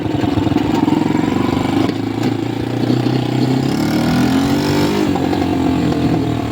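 A homemade IZh enduro motorcycle runs nearby, its engine chugging steadily with small rises in revs as it rides along.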